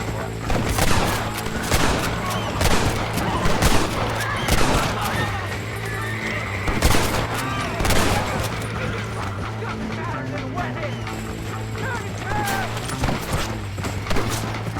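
Gunfire in the video game Red Dead Redemption: repeated sharp shots in loose volleys over a low, steady game hum, with people talking over it throughout.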